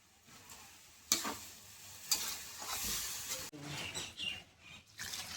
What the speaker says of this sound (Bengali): দিয়ে একটু নেড়ে ছেড়ে নেবো চালটাকে।